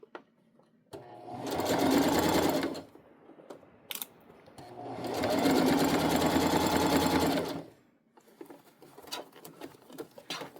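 A sewing machine stitches a seam on an unlined tote bag in two bursts of fast, even whirring, each a couple of seconds long, with a pause between them and fabric handling clicks around them.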